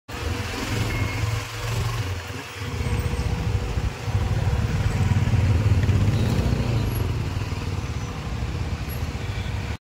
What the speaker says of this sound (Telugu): బైక్ అయితే ముందుకు వెళ్ళట్లేదు